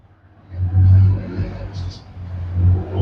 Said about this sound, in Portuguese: Olha a moto da Zona Leste de São Paulo de Osasco passando, a Comba, a perua passando aí.